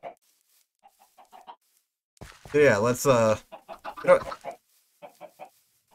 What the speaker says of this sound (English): Okay, good, we got another chicken.